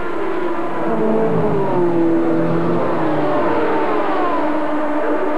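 An IndyCar race car engine at the Indianapolis 500 in 1994, droning loudly as it leaves the pits, its pitch sliding and wavering while other engines blend into a continuous roar.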